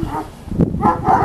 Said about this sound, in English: Well, that's a big dog bark.